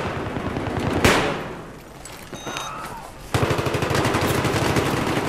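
Rapid submachine gun bursts from an MP7 in Battlefield 3 Close Quarters Rush, loud and close, with a sharp blast early on and sustained fire resuming in the second half amid game noise.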